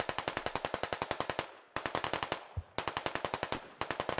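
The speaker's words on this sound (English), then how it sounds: "They're both getting shot at." Gunfire in the SquadOps video game: three rapid automatic bursts of evenly spaced, crisp shots, close and loud, split by short pauses, with no talking.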